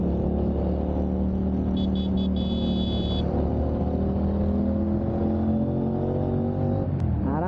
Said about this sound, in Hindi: ट्रक वाले से रेस लगा रहा है वो